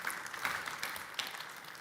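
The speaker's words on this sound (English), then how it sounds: "Big applause." Audience applause after a talk at the Formnext trade fair, a faint, steady patter of many hands clapping that continues evenly throughout.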